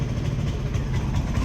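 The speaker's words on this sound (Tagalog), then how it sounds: "Yan ang tunog ng makina." Honda Beat scooter engine idling in a steady, close, low rumble with slight unevenness, from a scooter that sputters and nearly stalls when throttled hard.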